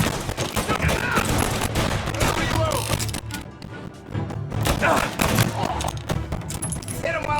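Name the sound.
gunfire in the video game Mafia: Definitive Edition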